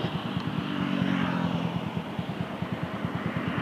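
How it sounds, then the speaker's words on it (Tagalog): Motorcycle engine in drag-race setup running with no air cleaner, a loud close rhythmic putter that sounds labored and uneven, idling and struggling with a steady pulsing beat throughout. "Parang nahirapan yung makina mga bay."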